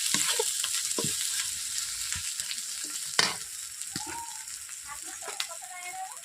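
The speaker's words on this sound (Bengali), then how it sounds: "যেহেতু আমি সমস্ত প্রত্যেকটা উপকরণ আমি ভেজে ভেজে নিচ্ছি" Ingredients frying in a pan with ginger paste for a cauliflower and egg curry, a continuous close hiss of hot oil with occasional stirring scrapes and a sharper pop near the middle, without speech.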